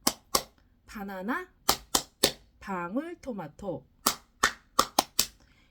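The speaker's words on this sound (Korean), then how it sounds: "이렇게 박수를 치면서 아이에게 글자 수를 알려주시는 것도 좋고요" Sharp, close hand claps mark the syllables of words one by one, falling in short groups between the spoken words. A voice says the words in Korean between the claps.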